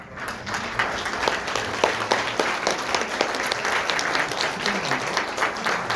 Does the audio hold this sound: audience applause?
yes